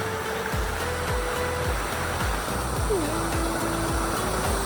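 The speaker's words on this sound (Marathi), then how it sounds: "हा इथला वॉटरफॉल" A monsoon waterfall at Moramarwadi in Maharashtra gives off a steady, loud broadband rushing roar that continues without a break from start to finish.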